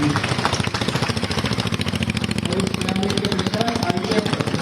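A motorcycle engine runs at a steady, rapid throbbing idle during a police stunt show at an outdoor celebration, close and loud throughout, under a voice speaking over a loudspeaker.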